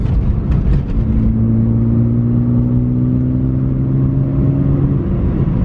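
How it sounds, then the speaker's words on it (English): Car in fourth gear pulling up toward 45 mph, the engine holding a loud, steady droning whir with rising harmonic tones that climb slowly across several seconds, close and continuous inside the cabin. "Drop it into fourth, and I'll give it a little gas right here up to 45."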